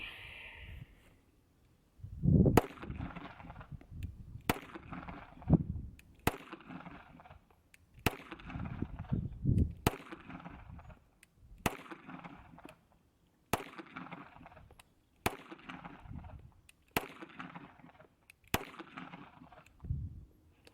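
A SCCY CPX-2 pistol with a new slide, barrel and guide rod fires about a dozen sharp, loud shots at uneven intervals, each a crisp crack with brief echo, with quieter handling noise between them.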